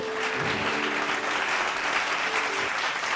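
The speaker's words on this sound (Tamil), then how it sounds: "கைத்தட்டுங்க" Audience applause at a Tamil-language Bible study gathering, a steady dense wash of many hands clapping close and loud for the full length.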